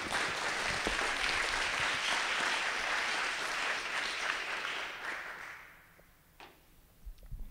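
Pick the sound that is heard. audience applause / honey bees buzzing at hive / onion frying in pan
audience applause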